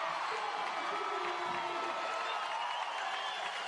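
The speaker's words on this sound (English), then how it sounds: "Listen to the crowd" Arena crowd at a women's professional basketball game cheering and roaring steadily after a made shot, a dense, continuous wash of voices with whoops, loud and unbroken throughout.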